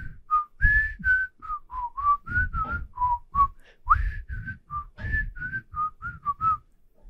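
A person whistles the jaunty, bouncy Andy Griffith Show theme in short clear notes, close and solo, with a few soft taps and rustles underneath.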